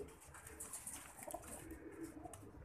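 Soft, low pigeon cooing murmurs faintly in the background, a continuous throaty burbling with a few higher bird sounds mixed in.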